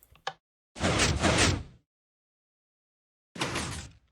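A redstone piston door in Minecraft, heard as two distinct sliding whooshes, each about a second long and loud and close, separated by silence, with a brief click at the start.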